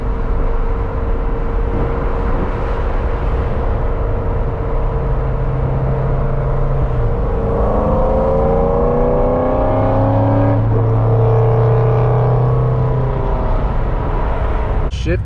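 A Chevrolet Corvette C7 Z06 with a 7-speed manual cruising in seventh gear gives a steady, loud low engine drone with rising whine tones as it pulls, continuous throughout with no talk.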